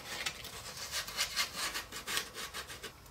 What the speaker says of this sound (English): with a small piece of 220 grit sandpaper, we're just going to go in here and just take any burrs off that are on the inside of our sound hole